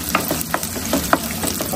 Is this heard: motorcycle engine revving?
no